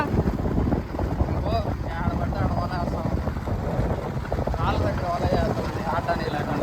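A fishing boat at sea comes closer with a steady, loud engine drone and rushing wind across the microphone, while people talk over it.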